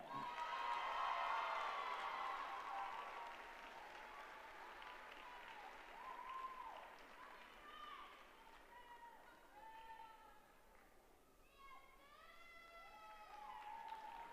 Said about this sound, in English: There are your beam champions from this afternoon. Round of applause, please.